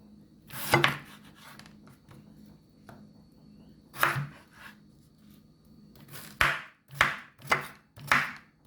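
A knife dices Irish potatoes on a board for Jamaican fish soup, with several sharp, close chopping strokes, a burst early, then a quicker run of cuts near the end over quiet kitchen background.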